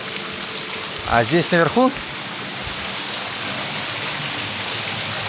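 Ice-cold water pours into a cold plunge pool in Vietnam with a steady, close rushing hiss throughout. Someone speaks briefly over it near the start.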